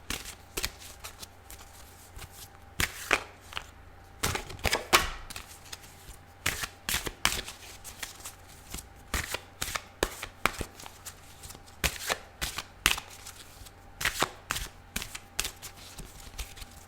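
A large tarot deck is shuffled slowly by hand, with irregular soft slaps and riffles spaced a second or so apart, close and fairly quiet with no talk.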